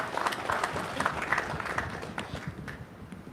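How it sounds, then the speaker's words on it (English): Audience applause greets anti-eviction activist Ben Gilroy at a public gathering in Ireland, a steady dense patter of many hands clapping throughout, fairly close and full, easing slightly toward the end. "a very serious round of applause"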